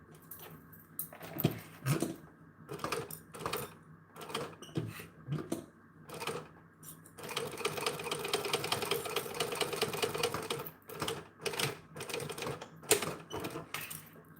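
A sewing machine stitching a half-size stitch, with short bursts of mechanical whirring and clicking, then one longer steady run of stitching in the middle, all close and fairly quiet.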